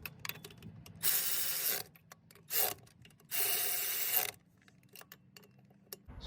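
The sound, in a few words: tightening nuts with a 12mm socket on Toyota Tercel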